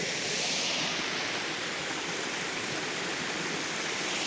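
Water rushes steadily down a small waterfall in a forest stream, a continuous broad roaring hiss, loud and close with no other sounds.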